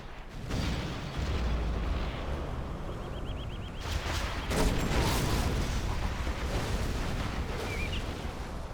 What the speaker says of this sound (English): Yeah, those Scud launchers are annoying. He's firing them at wrong times, though.